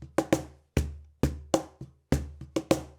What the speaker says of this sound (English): So without any of those effects on the Cajon, sounds like this.